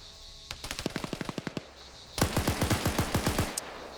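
Automatic gunfire in a PvP video game rattles in two quick bursts, the first a tight string of about a dozen shots, the second louder and heavier with echoing reports, no talk over it.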